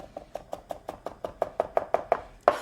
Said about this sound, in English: Now for the garlic, I really do want it minced.